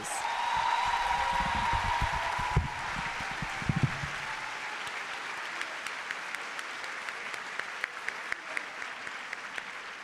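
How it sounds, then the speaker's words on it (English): Audience applause for prize winners at a final-year oath-taking and prizegiving ceremony, a broad sustained wash of clapping from a large hall crowd, with a brief tone and some low rumble early on before it settles. "Let's give them a last round of applause."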